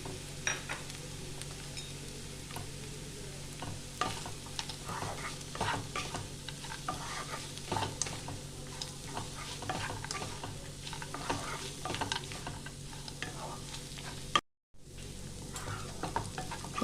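Peanuts sizzle in hot oil for flattened rice pulao while being stirred, giving a continuous soft frying hiss with frequent scraping clicks of the spoon, faint and close, without talk and with a brief dropout near the end.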